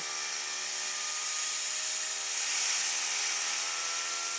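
A BilletSPIN Xeno spinning top whirs at high RPM, several thousand revolutions per minute, giving a steady, bright, airy whine with a faint tonal hum that holds evenly throughout, close and alone.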